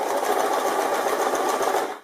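Sewing machine stitching steadily as fabric feeds under the lowered presser foot, a close, continuous whirring hum with no break for about two seconds before easing off at the end.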